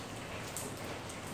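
Rain falls steadily as a dense, even hiss and patter, with a faint brief drip standing out midway and no talking.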